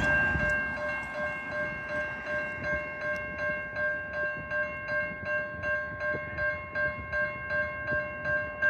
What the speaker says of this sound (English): VIA 73 is now arriving at the Chatham VIA station.